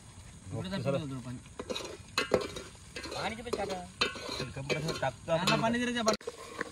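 Grated coconut goes into a pan and roasts with a soft sizzle, broken by stirring scrapes and metal clinks, while someone talks over it throughout.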